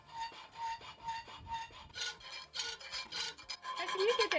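Round file rasping against a metal edge in steady back-and-forth strokes, close and fairly quiet, the scraping quickening toward the end, with no talking.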